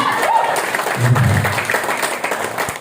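An audience applauds at an Indonesian business seminar, dense clapping mixed with crowd noise and a brief raised voice, moderately loud throughout.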